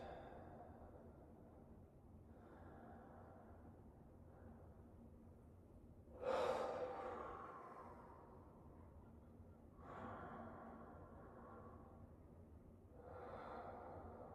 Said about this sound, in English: So just keep taking those deep breaths.